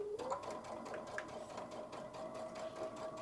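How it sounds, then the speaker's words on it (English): Sewing machine top stitching a lined dress, a continuous quiet mechanical whir with fast steady stitching rhythm, running alone throughout. "I would turn it over and top stitch the entire dress."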